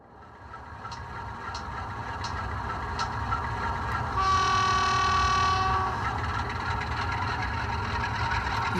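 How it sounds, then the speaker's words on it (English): An OO scale model British Rail Class 47 diesel locomotive runs with a steady mechanical hum, then sounds a loud, sustained two-tone horn for about a second and a half before rolling on. "You gotta love that horn."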